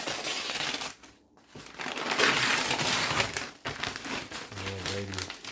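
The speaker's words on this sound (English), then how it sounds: "Open up the package." Crinkling, tearing packaging and rustling cardboard as a Wooting 60 keyboard package is opened up close, with a brief pause partway and a low hum near the end.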